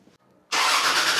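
A car in a budget VIP build is test-fired: after a faint quiet lead-in, the engine cranks and catches abruptly into a loud, steady, broadband running roar that holds to the end.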